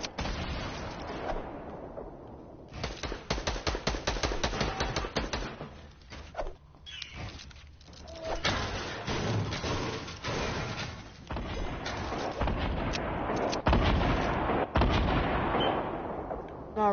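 Rocket launcher fire in the Fortnite video game, a rapid series of heavy booming blasts and explosions spread across the whole stretch, loud and close, with small gaps between bursts.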